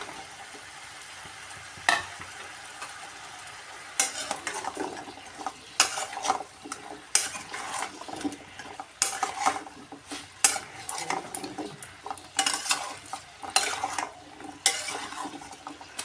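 Drumstick pieces fry in a pan for lau shukto while a spatula stirs them, producing a continuous sizzle broken by repeated close scrapes and clatters against the metal, with no voices.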